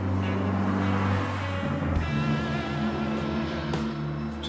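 Cummins-powered Ford truck engine held floored, a loud steady diesel drone with strong low harmonics that shift in pitch midway as the revs change, close and continuous with no talk.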